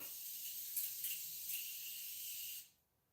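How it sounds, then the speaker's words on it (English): A spray bottle releases a light mist in a steady hiss lasting a couple of seconds, with a few brief stronger puffs, close and fairly loud, then cutting off into silence. "this is how it sprays out"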